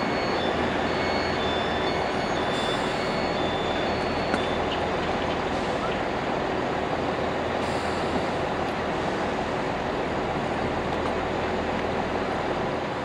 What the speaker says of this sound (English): Getting ready to depart here is the 12:36 Great Western Railway service to Avonmouth